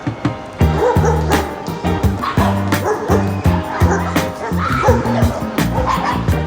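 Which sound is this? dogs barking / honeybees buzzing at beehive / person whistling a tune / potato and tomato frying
dogs barking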